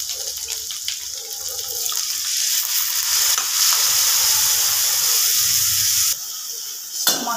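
Water poured into frying spice masala in a pan, heard as a loud hissing sizzle of steam that swells and holds for several seconds, then cuts off abruptly near the end.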